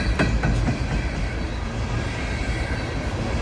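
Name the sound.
Norfolk Southern coal train passing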